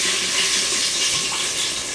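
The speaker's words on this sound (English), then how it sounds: "you're going to pour about 3/4 of a cup of red wine." Red wine poured into a hot pot after pressure cooking lamb shanks, a steady loud hissing sizzle and rushing pour that continues unbroken throughout.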